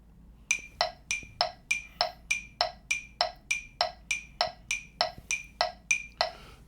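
Metronome clicking steady eighth notes, sixteen sharp evenly spaced ticks at a moderate tempo, fairly faint and alone in a quiet room.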